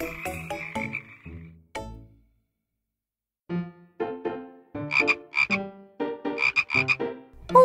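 Cartoon frog croaking in a children's animated fable about a frog and a cow, a run of rhythmic croaks, then a pause, then a busier burst of croaks over light music.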